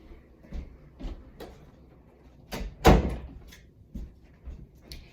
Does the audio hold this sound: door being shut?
yes